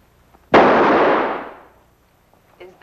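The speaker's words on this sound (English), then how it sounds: "Can any of you handle a gun? I mean, shoot it and hit what you're shooting at." A single gunshot cracks loudly and sharply, then rings out in a long decaying echo that fades over about a second, with faint noises afterward and no voices.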